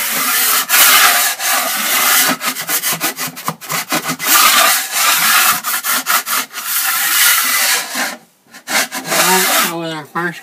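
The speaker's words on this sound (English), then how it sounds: "First thing we got to do is scrape the wall." Scraping a drywall wall before a second coat over a hairline crack repair: close, rough, rhythmic scraping strokes in quick repeated bursts with short pauses, loud and up front, with a voice heard briefly near the end.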